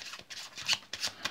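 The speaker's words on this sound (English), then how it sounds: "We give the cards some cuts, we'll give them some more shuffles." Playing cards riffled and shuffled as a small packet during a card trick, a few quick rustling bursts close up, with no talking.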